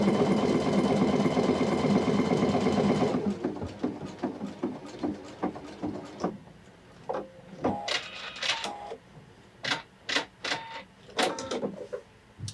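A Pfaff sewing machine runs a dense satin stitch, first with a steady, continuous mechanical whir, then stops and gives way to short, sharp clicks and taps.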